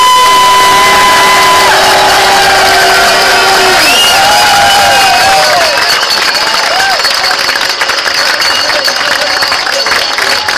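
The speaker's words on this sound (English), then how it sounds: "massive round of applause to the winner of the 2011 King of Cobbles" A large outdoor crowd applauds and cheers for the 2011 King of Cobbles winner at the Cobble Wobble ceremony, a loud sustained wash of clapping and whoops mixed with whistles and faint electronic tones.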